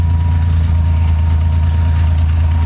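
A 1969 Spartan 155 hp engine with electric shift, running on its carburetor after sitting 25 years, idles at 1,000 rpm with a steady, loud, close low rumble and a faint knocking, alone with no talk.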